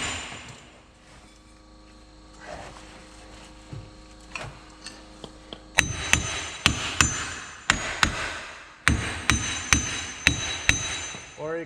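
Repeated metal hammer blows knocking a rusted hub off its shaft during a Smart Fortwo front axle bearing replacement, with a quieter stretch of light workshop noise and a few taps before a run of loud, sharp, evenly spaced strikes.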